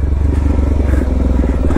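A Suzuki DR-Z400S dual-sport motorcycle engine brakes down a rough hillside, a close, loud single-cylinder thumping with a steady rapid low pulse and some rattle from the terrain.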